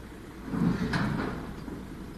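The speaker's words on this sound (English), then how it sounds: "I can hear some shuffling happening there in the truck." Elephants shuffle inside a transport truck during a night-time bull release: a muffled scraping and thudding from within the truck, rising briefly and then fading into a low rumble.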